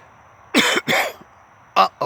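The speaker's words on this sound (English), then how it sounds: "I hope that wasn't a dry cough." A person coughs twice in quick succession up close, then coughs once more after a brief pause.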